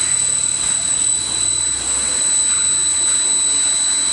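Water turbine spun up to higher power to push more flow, giving a steady, loud whirring roar with a constant high whine, unbroken throughout and with no voices.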